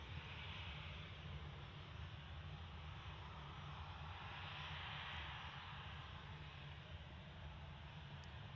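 Ryanair airliner departing Manchester for Cork, heard close up as a loud, steady jet engine roar with a broad hiss, continuous and unbroken for the full span.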